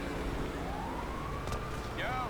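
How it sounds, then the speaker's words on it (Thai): An ambulance siren in GTA V rises and falls under ongoing game noise and engine hum, moderately loud, while someone talks over it. "รถพยาบาลมาแล้ว"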